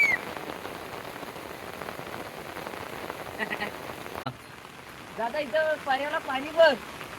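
Steady, heavy rain hiss fills an outdoor village scene in the Konkan, with voices chattering over it toward the end.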